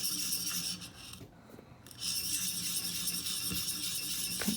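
Knife blade drawn in forward strokes across the abrasive of a Work Sharp 511 recurve sharpener, a steady rasping scrape that pauses briefly midway, then resumes with even, close-up strokes.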